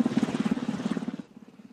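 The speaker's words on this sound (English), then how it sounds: "As Black Hawk helicopters swarmed over the skies of Watertown" Black Hawk helicopters fly over Watertown during a police lockdown, their rotors beating in a fast, loud, even rhythm that drops away sharply near the end.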